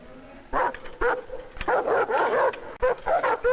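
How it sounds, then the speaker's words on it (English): Guard dogs kept in cages bark and yip in short loud bursts, close by, several barks in quick succession with brief whimpering between them. "The dogs, our guard dogs live in cages, in dog houses."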